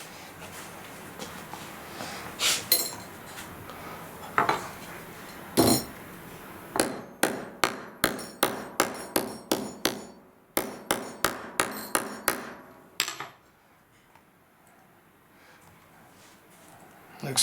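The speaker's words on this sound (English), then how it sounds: "And then we go over and set the rivet." A rivet is set with a hammer during a restoration project. After a few scattered taps comes a run of about a dozen sharp, ringing metallic blows in a quick, steady rhythm, close and loud, and then the room goes quiet.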